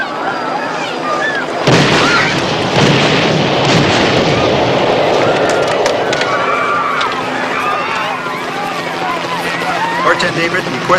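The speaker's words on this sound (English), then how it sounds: "There are explosions." Explosions erupt in a sudden loud blast, then a sustained rumbling roar of further blasts and chaotic noise, with shouting voices and talk over it.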